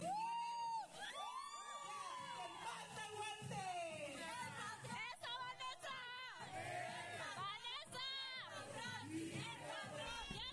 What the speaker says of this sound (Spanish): Esos gritos que se escuchan de que dicen el patrón son ellas animándome.